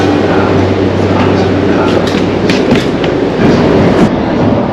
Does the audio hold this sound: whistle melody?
no